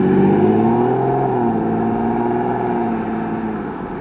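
A 2023 Chrysler 300C with its Hemi V8 revs and pulls hard, a loud, close, deep engine roar whose pitch climbs and then holds steady for about four seconds, with no talk over it.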